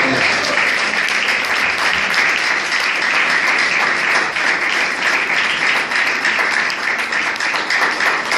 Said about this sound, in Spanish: Dele palmas al Señor de gloria.